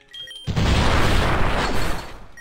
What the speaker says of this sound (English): I just heard an explosion.